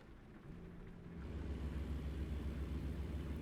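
Rain in the American Truck Simulator video game, a soft steady hiss that swells louder after the first second and is joined by a low rumbling drone.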